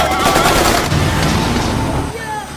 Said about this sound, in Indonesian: mereka menolak sehingga mereka langsung ditembak